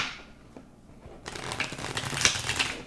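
A deck of Mind's Eye Tarot cards is shuffled close by: a soft rustle builds into a dense, rapid riffling flutter of cards for a couple of seconds.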